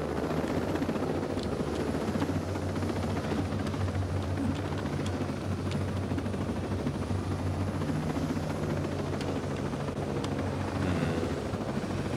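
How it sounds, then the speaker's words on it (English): A drone in Ghost Recon Breakpoint hovers overhead with a steady, droning rotor buzz that holds at an even, fairly loud level throughout, with no talking. "There's a drone."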